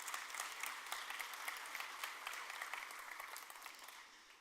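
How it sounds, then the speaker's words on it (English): A conference crowd at PHP UK 2023 breaks into sustained applause, many hands clapping in a dense, even wash heard from a distance, fading out toward the end. "You all should applaud yourself."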